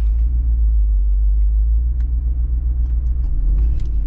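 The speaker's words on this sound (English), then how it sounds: "A little bit too much throttle input there." A 2022 Jeep Wrangler Rubicon 392 Xtreme Recon, scraping while beached off-road, gives a deep, loud engine rumble under too much throttle, holding steady close to the microphone.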